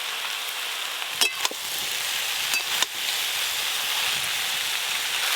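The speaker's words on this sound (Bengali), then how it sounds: "এবার আমি ভেজে রাখা চিংড়ি মাছ দিয়ে আর একটু জল দিয়ে সব কিছু একসঙ্গে ভালো করে সেদ্ধ করে নেব।" Bottle gourd greens sizzle steadily in a pan with fried prawns, a constant close hiss broken by a few brief clinks of stirring, with no talk.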